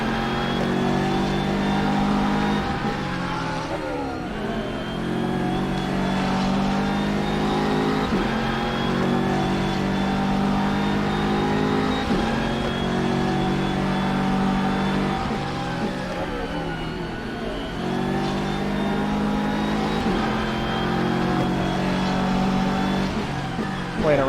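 A McLaren race car in a sim racing game laps Brands Hatch, its engine droning loudly and steadily with rising revs, each climb cut by a gear change. Another car runs close behind.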